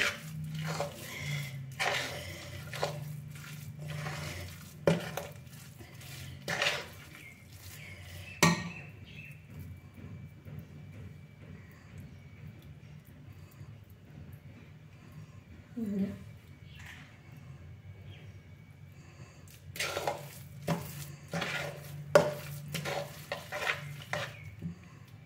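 A coconut and jaggery mixture being stirred in a hot pan for Bengali coconut laddoos, with bursts of scraping and soft sizzle that come and go, sometimes interrupted by quieter stretches and a faint voice.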